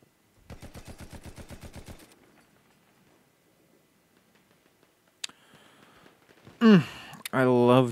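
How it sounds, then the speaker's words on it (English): An old machine gun in Battlefield 1 multiplayer rattles off one fast, evenly spaced burst of about a dozen and a half rounds lasting a second and a half. A pause of faint clicks follows, then a voice and louder game sounds. "I love these old machine guns, man."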